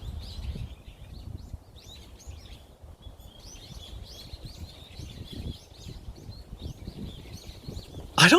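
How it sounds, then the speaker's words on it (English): A recorded bird call plays as a captcha game challenge: a rapid run of high, twittering chirps and trills repeats steadily through the whole stretch over a low, rumbling background, ending in a short loud burst. "You will now hear bird call number 3."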